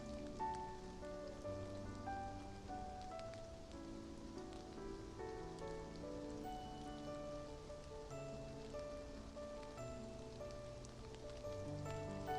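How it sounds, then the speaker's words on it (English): Steady rain falling in a video game scene, a soft continuous patter heard faintly beneath a gentle tonal musical backdrop, with no voices. "It's raining?"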